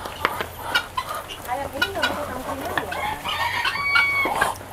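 A Serama chicken crows amid farm background noise at a glamping farm, with scattered clucks and chatter of other fowl, moderately loud and near.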